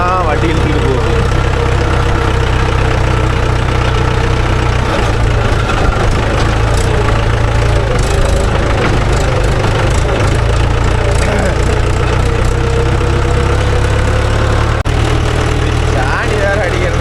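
A Mahindra tractor engine labours steadily while hauling a load of cow-dung water along a road, a loud, continuous low rumble with a slight knocking edge that runs the whole stretch without a break.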